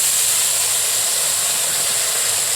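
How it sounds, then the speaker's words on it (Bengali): Chilli, ginger, garlic and onion paste sizzling in a hot wok, a steady bright hiss that holds at an even level throughout, with no voices. "যে মশলাটা ছিল, কাঁচা লঙ্কা, আদা, রসুন, পেঁয়াজের পেস্ট, এটা এবার আমি কড়াতে দিয়ে দেব"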